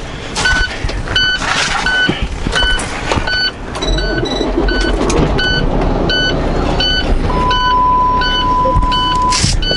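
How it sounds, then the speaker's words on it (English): A truck hauling a wide load sounds its warning beeper: a steady train of evenly spaced, high-pitched electronic beeps over a constant rumble of road and engine noise. "Why are you beeping at me?"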